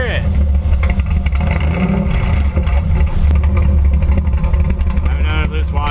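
A Ford F100 engine fitted with turbo whistles cranks, fires and revs, a loud rumbling idle swelling into throaty revs with a rising whistle near the end, while voices talk over it.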